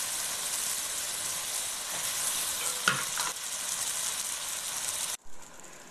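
Boiled lentils tipped into hot frying masala with green chillies for dum maash dal fry, giving a steady loud sizzle with scraping stirs, ending abruptly as the sizzle drops away near the end.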